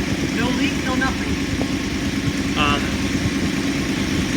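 Steady low idle of a 1956 Ford Thunderbird engine, running close and even throughout, with brief voices heard faintly over it.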